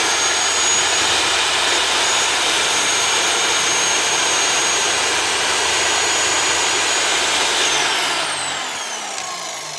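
Power chop saw cutting wood for a basic van bed: a loud, steady high motor whine close by that winds down and fades toward the end, with no talk.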